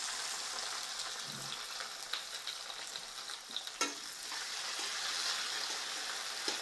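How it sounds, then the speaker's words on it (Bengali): Chopped tomatoes sizzle and fry in hot oil in a pan as part of a rice and semolina breakfast dish, a continuous soft crackling hiss with a few brief stirring clatters, alone without talk. "এগুলো একটু ভালো করে ভাজা ভাজা করে নিব"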